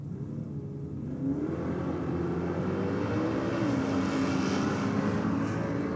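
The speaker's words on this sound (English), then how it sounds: "Taking on Dennis Matzik in the Chevy Camaro." A Chevy Camaro at a nitro drag racing event launches down the strip, a loud, steady engine roar with a rising tone building from about a second in and holding strong throughout.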